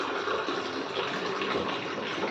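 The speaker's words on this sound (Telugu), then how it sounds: "మీకు కావాల్సినన్ని వాటర్ యాడ్ చేసుకోండి" Steady stream of water pouring into a curry pot, a continuous splashing gush at close range with no talking.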